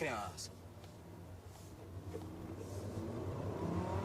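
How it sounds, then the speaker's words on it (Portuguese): A 2.5-litre, 170-horsepower armoured Volkswagen Jetta engine hums and rises in pitch as it revs up, growing steadily louder toward the end after a short voice at the start. "Aí, se liga no motor do Jetão."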